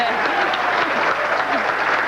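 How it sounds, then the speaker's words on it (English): Banquet audience at a bowling association awards dinner applauds steadily, a full, even roar of clapping with a voice faintly audible underneath. "Everybody give her a round of applause, please."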